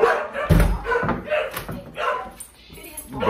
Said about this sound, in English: Dumbass dog, stay barking.